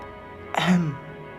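A single short, soft throat clearing, a brief voiced rasp, against a quiet background.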